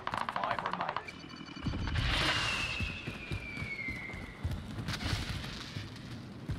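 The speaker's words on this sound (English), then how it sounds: "Precision airstrikes there." Precision airstrike explosions in a video game battle, with rattling automatic gunfire leading into a heavy rumbling blast and a descending whine, followed by more scattered booms and crackle at moderate loudness.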